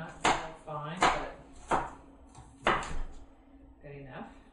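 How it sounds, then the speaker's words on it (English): A kitchen knife chops an onion on a board in a few sharp, separate knocks with short pauses between them. "So here I'm chopping up an onion."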